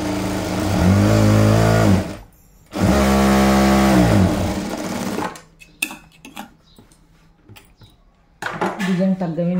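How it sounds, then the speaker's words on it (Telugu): A sewing machine stitches through double-folded saree cloth in two loud, whirring runs separated by a short pause, followed by quieter clicks and someone talking. "దీన్ని డబుల్ ఫోల్డింగ్ చేసుకొని ఫస్ట్ ఒక కుట్టు అయితే వేసేస్తాను"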